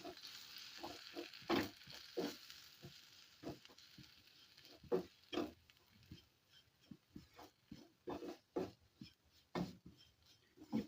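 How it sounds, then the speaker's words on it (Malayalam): Spice powders being stirred in a pan for an anchovy fish curry, with soft rhythmic scrapes and taps of the spoon against the pan and a faint sizzle underneath. "നന്നായിട്ട് ഇളക്കി കൊടുക്കുക."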